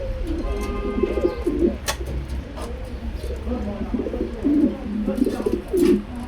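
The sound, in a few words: Lahori pigeons cooing at a pigeon farm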